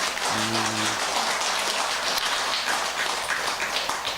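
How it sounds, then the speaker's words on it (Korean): Audience applause at a Buddhist lecture on the Avatamsaka Sutra in a Buddhist hall, a steady, dense wash of many hands clapping that fills the room throughout, with a brief low tonal hum near the start. "그 박수는 배고프니까 얼른 끝내주시오 하는 걸로 알고"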